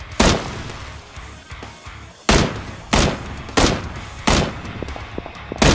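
Gunfire in PUBG, first-person duo match: a string of loud, sharp shots in uneven bursts, each crack trailing off in a short echo, with no talking.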